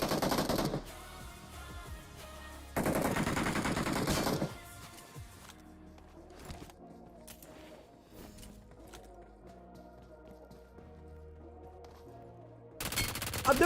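Automatic gunfire bursts in the BGMI battle royale game at the military base, with loud sustained volleys near the start and end and scattered lighter shots between.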